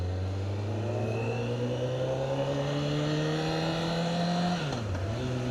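A close, loud Honda CBR1000RR sport motorcycle engine hums at steady revs while riding, rising gradually in pitch, then briefly dipping as the throttle eases before picking up again.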